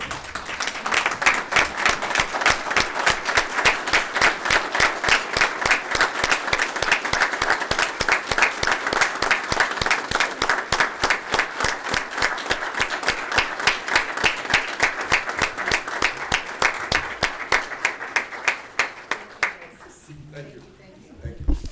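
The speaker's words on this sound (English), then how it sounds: "let's give these veterans a round of applause" A council chamber audience stands and applauds veterans, a long, steady, dense round of clapping that holds evenly for about twenty seconds before tapering off abruptly into quiet room sound.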